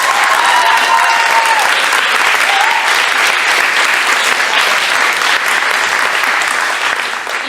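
A large audience claps loudly and continuously for the teams at a university debating grand final, a dense, sustained wash of applause with no pauses and a slight fade at the end.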